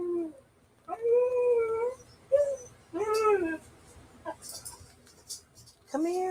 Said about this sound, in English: You guys hear my dog.